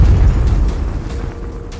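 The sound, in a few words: proton torpedo blast explosion sound effect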